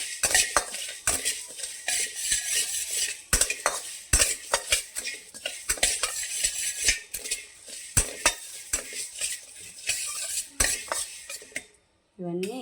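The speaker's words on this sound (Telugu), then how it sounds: "గోళంలో ఇవన్నీ కలిపి వేయించుకోవాలి" Spoon stirring and dry-roasting spice ingredients for a stuffed eggplant curry in a metal pan, heard as repeated close scrapes and clinks over a faint sizzle that continue steadily until a brief pause at the end.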